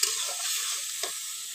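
Gravy liquid poured into a spiced curry frying in a pan gives a steady, close, loud sizzle with one brief stirring scrape partway through and no voices.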